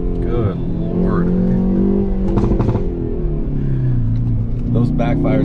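A brand-new stock 2021 Hyundai Veloster N revs hard in first gear above 5,500 RPM, its engine note rising and falling, with sharp crackling exhaust backfire pops in short bursts close by.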